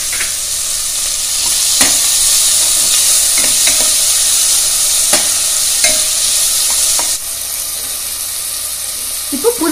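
Chopped tomatoes hit a hot pan of oil with ginger-garlic paste for banana flower biryani, a steady loud sizzle and hiss broken by occasional stirring clinks and scrapes, no voices.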